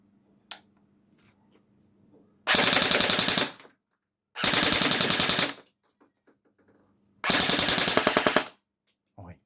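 An MP5 gun, the black CM.04 PDW model, fires on full auto in three loud, close rapid bursts of about a second each, separated by quiet gaps with faint clicks.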